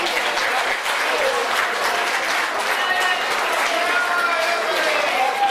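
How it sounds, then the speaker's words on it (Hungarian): A crowd applauds steadily, dense clapping sustained at an even level throughout, with some voices mixed in beneath. "Nekünk sok tapsot kérünk."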